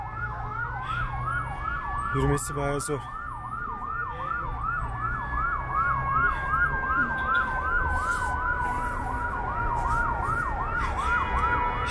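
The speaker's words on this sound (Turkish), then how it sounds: "Ambulans tam ortada kalmış." An ambulance siren wails in a fast, repeating up-and-down cycle while stuck in city traffic in Mexico, steady and prominent over a low traffic rumble, with a brief clatter and a short spoken remark nearby.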